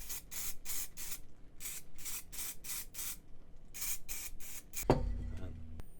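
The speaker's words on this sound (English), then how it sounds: "Now a bit of layering spray now, where we're going to put it." Layering spray from a can being misted over model scenery flowers, with about a dozen short hissing bursts in an irregular rhythm, close and fairly quiet, and a faint clunk near the end.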